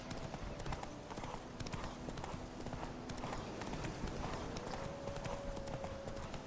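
Roach the horse gallops along in The Witcher 3, steady clip-clop hoofbeats running throughout over a dense background of game music and ambience, with occasional faint tonal swells.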